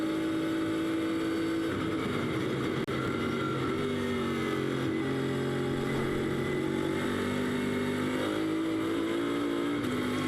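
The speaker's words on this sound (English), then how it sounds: "Let's listen again to where he brakes and if he goes down one gear or more." Bentley race car in free practice at Silverstone, braking into Stowe corner and dropping through the gears, a loud continuous engine note whose pitch steps down and then climbs again, heard alone for about ten seconds.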